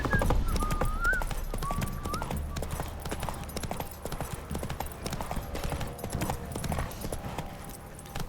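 Rapid, steady clip-clop of galloping hooves in The Witcher 3, close and continuous, with a brief whinny near the start.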